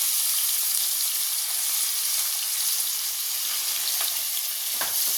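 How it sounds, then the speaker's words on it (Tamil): Onions and curry leaves sautéing in hot oil for dum biryani, a loud, even, continuous sizzle with a couple of brief scrapes from stirring near the end, no talking. "இதெல்லாம் போட்டு நல்லா பொன்னிறமாகிற வரைக்கும் நல்லா வதக்கிக்கிறோம்"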